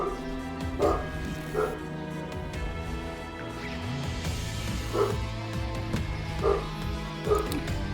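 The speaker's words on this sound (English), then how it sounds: "Don't know what my dog's barking at, but he is definitely barking at something." A pet dog barks in short bursts from another room, several sharp yips spaced irregularly under ongoing gameplay sounds and a quiet speaking voice.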